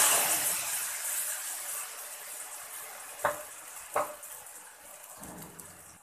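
Garlic frying in a pan gives off a steady sizzle that slowly fades, then tomato juice is poured in, making two sharp splashing hisses a moment apart, with quieter bubbling after.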